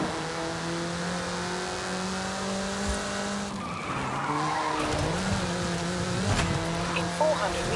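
Tires squeal and skid as a car drives at speed in Forza Horizon 5 on PS5, engine tones rising and shifting through the turn with a sharper screech near the end, loud and close with no talk.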